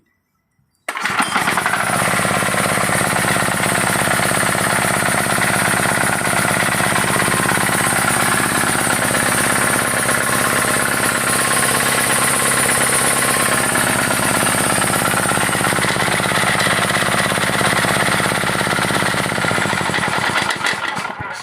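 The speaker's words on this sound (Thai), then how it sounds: "กดลงไปนะครับ เครื่องยนต์ก็จะติด" A small diesel engine starts abruptly by recoil pull-start and then runs at a steady, loud, clattering idle for the rest of the stretch, with no voices.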